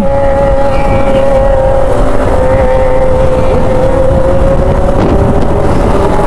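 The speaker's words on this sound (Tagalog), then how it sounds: "Ducati oh! Ang lakas!" A Ducati motorcycle engine roars during a wheelie on a road, a loud, steady high-revving drone heard up close over wind, with no talking.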